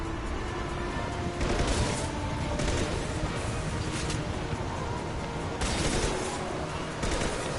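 Gunfire in Mass Effect 2 Legendary Edition crackles as a continuous, loud barrage of rapid shots, with several heavier bursts swelling and easing over the stretch.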